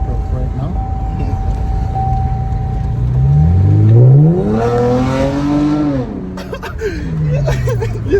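A Cadillac engine revving hard, rising and falling in pitch as the throttle opens, loud and close, with people talking and exclaiming over it.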